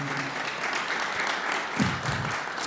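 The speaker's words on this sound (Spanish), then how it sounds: "Dale un aplauso a nuestro Dios" A church congregation claps for God after a prayer, a steady wash of applause from many people, moderately loud, with a few voices calling out briefly within it.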